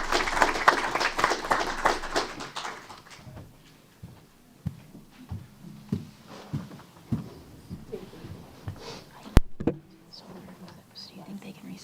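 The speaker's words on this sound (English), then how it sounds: "Let's give her a round of applause." Applause at a Temple Terrace city council meeting, a few seconds of clapping that fades out and gives way to scattered knocks and quiet talk around the room.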